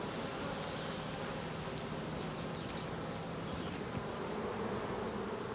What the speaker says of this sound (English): Bill Savage breeds queen bees in specialised hives on his Gisborne property.